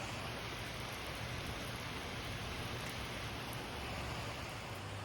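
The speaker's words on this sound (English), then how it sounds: "It's raining a little bit right now." Light rain falls steadily, a soft continuous hiss of drops on surfaces heard at low level and without a break.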